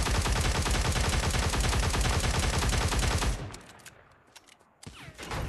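Dense automatic gunfire rattles in Cyber Hunter Lite, a rapid, unbroken burst of shots for about three seconds before it cuts off, leaving a near-quiet gap broken by a few scattered, more distant shots.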